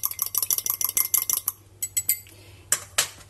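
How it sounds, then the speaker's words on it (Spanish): Egg yolk and milk lightly whisked in a bowl: a quick run of close, bright clinking strokes for about a second and a half, then a few scattered taps with gaps between them. "Batimos así ligeramente."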